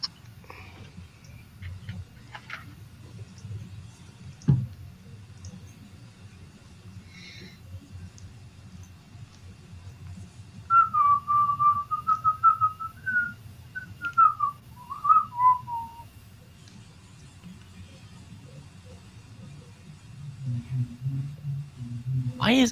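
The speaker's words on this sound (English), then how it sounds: "Why is everyone whistling lately?" A person whistles a short wavering tune partway through, clear and fairly close, over a low room hum and scattered faint background noises, with quiet talk at the edges.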